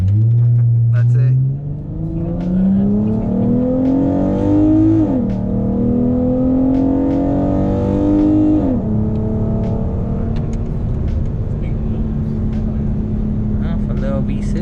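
Dodge Charger V6 engine revving hard through a couple of rising pulls, each shift dropping the pitch, then holding a loud steady drone.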